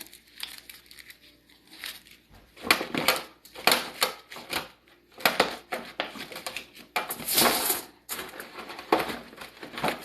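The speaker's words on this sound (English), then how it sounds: "I'm just going to cover it with the foil" Aluminium foil crinkles and crumples as it is wrapped over a cake, close and loud, in irregular bursts of bright rustling with short pauses between handlings.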